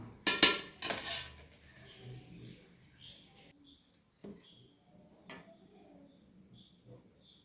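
Champa puttu flour being mixed with coconut milk in a pan: loud metallic clatters of a utensil against the pan at first, then sparse, quieter taps and scrapes while someone talks.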